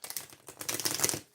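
A deck of cards shuffled close up during a card reading, giving a quick, dense riffle of crisp papery clicks that swells over about a second and then stops.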